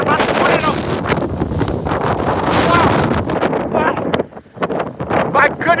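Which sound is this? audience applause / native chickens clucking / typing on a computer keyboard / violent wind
violent wind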